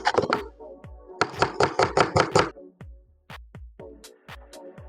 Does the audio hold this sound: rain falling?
no